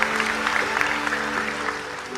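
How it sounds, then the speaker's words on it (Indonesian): An audience at an Islamic religious talk with Gus Baha claps in loud, dense, continuous applause filling the whole moment, with no voices over it. "Tepuk tangan untuk beliau"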